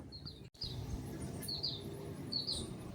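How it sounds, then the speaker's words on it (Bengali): Several short bird chirps sound in a garden with mulberry trees, a few brief calls spaced apart over a steady low background hum. "আর সাথে তো তোমরা শুনতেই পাচ্ছ পাখির ডাক"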